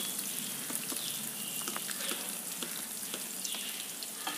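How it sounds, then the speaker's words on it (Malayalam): Chopped onion sautés in a pan for milk upma with a steady, moderately quiet sizzle and light crackle that runs on without a pause, with no voice over it. "ഈ സവാള ഒന്ന് നമുക്ക് നന്നായിട്ട് വഴറ്റിയെടുക്കാം."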